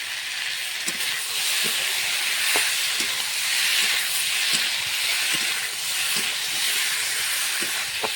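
Chilli powder, spices and vegetables sizzle continuously in oil for rohu fish curry, a constant hiss with occasional small crackles and pops.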